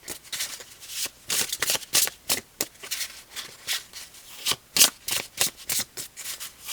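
Tarot cards are shuffled steadily, the deck riffling and rubbing in quick rhythmic bursts that repeat close and fairly loud, with no voice over them.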